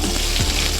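A bunch of curry leaves dropped into hot oil with spluttered seeds for a vegetable fry gives a dense, steady crackling hiss of frying that holds evenly through the brief moment, with no voices.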